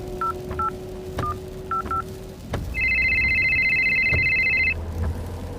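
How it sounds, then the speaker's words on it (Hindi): Phone call placed through a car's Bluetooth system: a quick run of short keypad tones, then a steady electronic ringback burr that holds for two seconds before stopping, over a low cabin hum. "कृतिका ने कार के ब्लूटूथ से एक फोन कॉल लगाया।"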